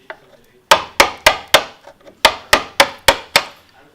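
A mallet strikes a chisel, bevel side down, into wood while cutting a housing joint for a stool, in a steady series of about ten sharp, loud knocks, close up and evenly spaced.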